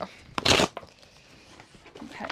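Packages of summer-blooming flower bulbs are ripped open, one short, loud tearing burst followed by faint rustling and handling noises.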